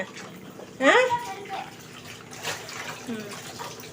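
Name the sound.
water running while washing an ice cube tray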